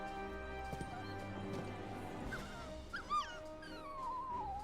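A dog in the video game Final Fantasy XVI whimpers and yips in a few brief bursts amid horse hooves clip-clopping, a neighing horse and a musical score, with some voices in the scene.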